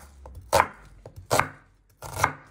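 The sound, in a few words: knife chopping an onion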